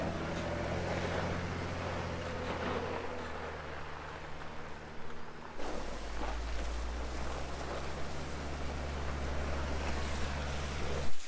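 Water pours steadily off a little dam on a Colorado mountain trail, a broad continuous rushing roar close by, with a low engine rumble of an off-road vehicle running underneath.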